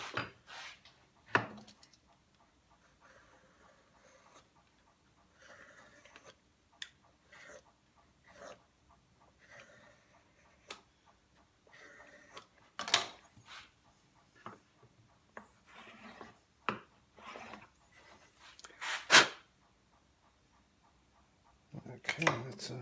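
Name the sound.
knife cleaning out a rebate in wood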